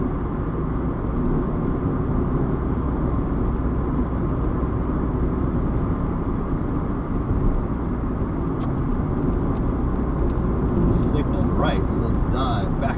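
Steady low engine rumble and road noise from inside a moving car with a smooth-shifting gearbox, going up through third into fourth on a short shift, constant drone with no distinct breaks, a faint higher whine near the end.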